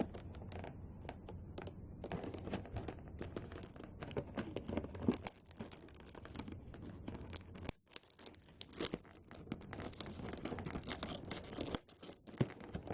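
Packing tape is torn and peeled off toy figure packaging, a faint continuous crinkling and ripping texture with scattered small crackles and rustles, close by and quiet, without speech.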